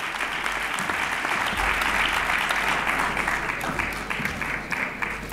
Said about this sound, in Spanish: El siguiente gran aplauso va al segundo premiado, el Open Sport.